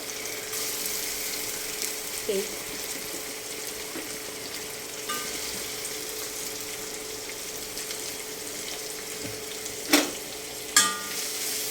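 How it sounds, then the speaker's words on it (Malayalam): Ginger sizzles in hot oil in a pan for a Kerala-style Onam inji curry. A steady close frying hiss runs throughout, with a few light clinks of stirring near the end. "എണ്ണ ചൂടായി കഴിയുമ്പോൾ ഇഞ്ചി ഇടുന്നു."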